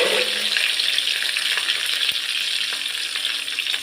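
Mustard seeds, dried red chillies and curry leaves frying in hot oil give a loud, bright, continuous sizzle with faint crackles and small pops, with no voices over it.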